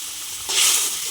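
Small puti fish dropping into a pot of boiling water with potatoes, a close burst of loud hissing and bubbling that swells suddenly, then holds steady.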